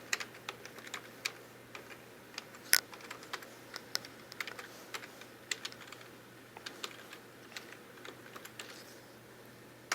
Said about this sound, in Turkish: E-mail adresimizi yazalım.